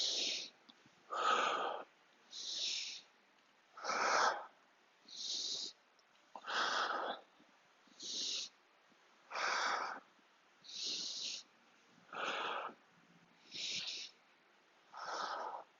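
Heavy rhythmic breathing during a TRX lower back stretch, about a dozen loud, close breaths in an even cycle of inhale and exhale, with no talk and only quiet room background between them.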